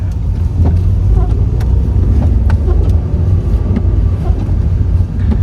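A car on a UK driving lesson rolls along with a loud, steady engine and road rumble, broken by faint ticks and clicks, and nobody speaks.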